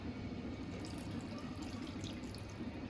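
Water is poured into a pan of cauliflower and potato curry, making a steady, soft, continuous splashing and trickling sound close by for a few seconds.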